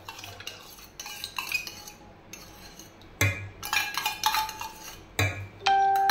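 A spoon scraping and clinking against a metal pot as yogurt is stirred into hot milk, with irregular close knocks and a sharp ringing clang near the end, no voices.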